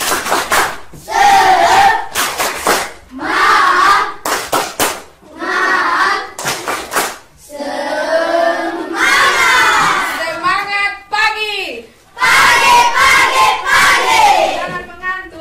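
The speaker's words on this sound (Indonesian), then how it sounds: "Tepuk semangat." Schoolchildren in a classroom shout a rhythmic spirit clap chant together, loud bursts of voices and claps in short repeated phrases, with a teacher's voice leading between them.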